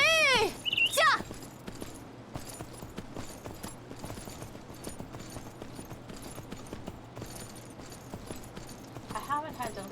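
Horse hooves clip-clop in a steady walking rhythm through the medieval survival game Myth of Empires, with game music and ambience mixed in and a brief whinny-like tone near the start.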